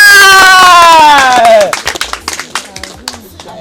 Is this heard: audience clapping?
yes